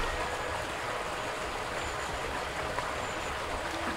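The River Windrush flows with a steady, broad rushing wash, moderately loud and unbroken, with no voices over it.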